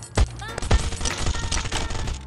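Gunfire rattles in the Last Island of Survival video game: two heavy close shots open, followed by a quicker run of shots under a talking voice.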